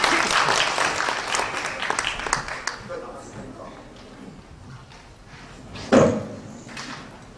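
Audience applause welcoming a student representative at a Korean culture performance held at a college, dense clapping that fades after a few seconds, then a sharp thud near the end.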